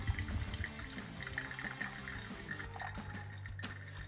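Hot water is poured from a kettle over ground coffee in a pour-over dripper, a faint, soft trickling splash that runs continuously for a few seconds in a quiet kitchen.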